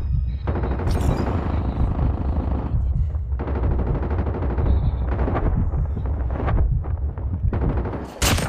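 Dense, loud automatic gunfire and explosive shots from a shooting video game, nearly continuous rapid bursts with heavy booms, filling the whole stretch with only a brief lull near the end.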